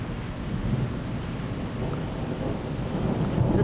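Thunder rumbles through a Northwest Indiana thunderstorm: a low, continuous rolling growl that swells toward the end, heard up close with rain hissing steadily underneath.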